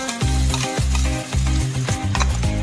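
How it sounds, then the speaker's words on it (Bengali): Turmeric, salt, chopped capsicum, chili and ginger-garlic paste frying and being stirred in a pan for a Bengali egg curry, with steady close sizzling broken by repeated scraping stirs, no talking. "এরপর আমি দিচ্ছি একটু হলুদ, নুন, ক্যাপসিকাম কুচি আর লঙ্কা কুচি আর আদা আর রসুনের পেস্টটা আমি দিয়ে দিলাম।"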